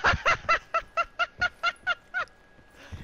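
A chicken in Call of Duty Black Ops 4 Blackout squawks in a rapid string of about ten loud, evenly spaced clucks, close and clear, then falls silent.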